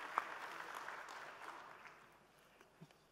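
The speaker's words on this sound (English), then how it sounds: "McMurray with a round of applause." Soft, distant applause from an audience at a leaders forum session welcoming a speaker, a faint patter of clapping that tapers off over a few seconds.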